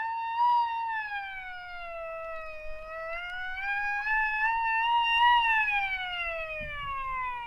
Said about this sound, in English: Here we have the air raid siren right on cue.